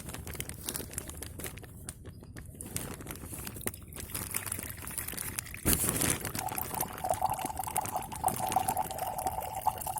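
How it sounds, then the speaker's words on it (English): Red wine flows from a plastic bag into a cup, faint crinkling and rustling first, then a sudden splash and a steady gurgling pour whose tone rises as the cup fills. "So I'm going to pour some wine into this cup."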